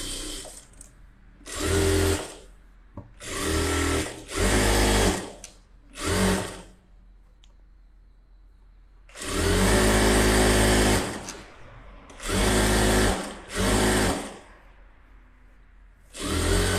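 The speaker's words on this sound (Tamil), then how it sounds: "இப்போ சுற்றி தையல் போட்டுருவோம்." Close and loud, a sewing machine stitches around the edge of fabric in repeated whirring bursts of varying length, separated by short pauses.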